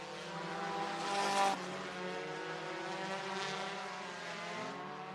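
Open Hornet stock cars racing through the turns of Sunset Speedway's oval, engines droning loud and steady throughout with harmonic whine, a brief surge as one passes close.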